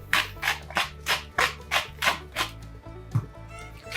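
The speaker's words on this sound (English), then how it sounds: "Now we'll prepare the burger patty. Season the ground beef generously with some salt," Hands work and slap ground beef seasoned with salt to shape a burger patty. About ten soft, wet, rhythmic pats come close and evenly spaced over a low steady kitchen hum.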